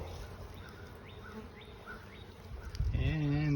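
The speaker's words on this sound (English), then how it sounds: "that's the bees that are still flying around over there" Honeybees buzz around a structural hive cutout outdoors, a faint, steady insect drone with scattered flight passes, before a louder voice-like tone enters near the end.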